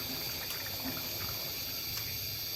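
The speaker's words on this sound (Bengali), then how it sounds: "এই যে পানি দিয়ে দেবো" Water is poured into a chicken and potato curry, giving a steady close liquid rush that runs unbroken at even loudness over the pot.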